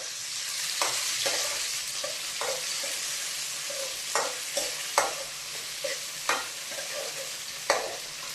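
Chopped tomato frying with chicken legs in a pan gives a loud, continuous close sizzle, broken by repeated scraping knocks of a spatula stirring at irregular intervals; no voices.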